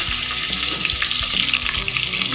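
Vegetables for fried rice, with carrots just added, sizzle loudly in a hot pan in a pressure cooker, a dense steady frying hiss broken by short stirring scrapes, close and continuous with no talk.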